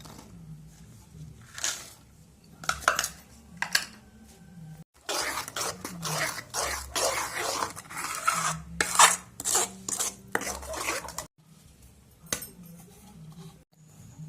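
A spoon scrapes and clatters in a bowl as powdered sugar is mixed into plum cake batter. The rasping strokes come in uneven bursts, close up, with short pauses and no talk.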